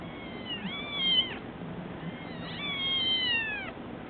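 Kittens meow in two clear, close bursts, each a cluster of high, drawn-out cries over quiet background hiss.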